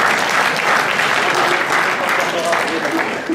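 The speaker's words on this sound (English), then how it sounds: "Let's give a round of applause again to Cisco" A brief burst of dense audience applause at a hackathon closing ceremony honors a corporate challenge winner, loud and continuous clapping over a short stretch with some voices mixed in.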